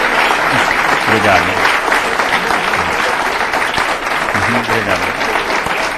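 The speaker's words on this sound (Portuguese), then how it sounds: "nós gostaríamos de aplaudi-lo" An audience gives sustained, dense applause after a lecture at a philosophy café event, while a voice speaks briefly over the clapping.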